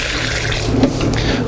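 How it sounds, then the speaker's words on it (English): Iron solution is poured from a container onto the base of a tree, a steady close splashing pour of liquid running continuously without voices. "I'll just water the tree with it."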